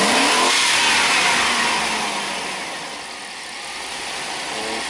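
A GM pickup truck engine, just after a PCM replacement and programming, revs hard and loud at the start, then eases down to a steadier drone with some fluctuation, heard up close with no talking.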